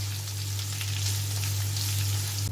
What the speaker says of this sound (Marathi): यामध्ये मी कांदा घालते आणि कांदा आपण लालसर परतून घेऊया